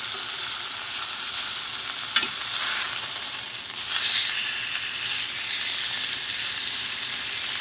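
Steak sizzling in a pan after being flipped, a loud, continuous frying hiss with crackling spatters, close and steady throughout with no voices.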